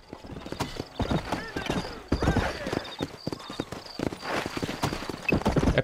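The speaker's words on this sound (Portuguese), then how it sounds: "E o gameplay do cavalo em si também é muito fluido." A horse in Red Dead Redemption gallops with rapid, rhythmic hoof clops close by, with whinnies and someone talking over the hoofbeats.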